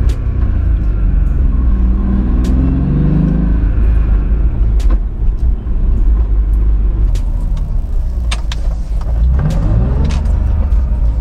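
Engine of a BMW with a manual gearbox and a new clutch, heard from inside the car as a loud, continuous low rumble and road roar with small shifts in tone while driving.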